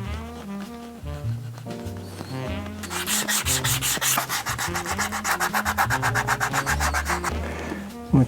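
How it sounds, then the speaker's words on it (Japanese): Shoemaker's iron rubbed along the leather sole edge of a bespoke shoe with a bevelled waist, a close rhythmic rubbing and squeaking that starts in short strokes and builds to steady fast back-and-forth polishing. "このコバにコテを当てて磨いていきます。"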